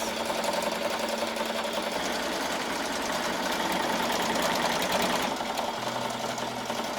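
An embroidery machine stitches a design onto a hoodie, a loud, steady mechanical whir and rapid needle chatter running continuously up close with a slight shift in tone near the end, no voices.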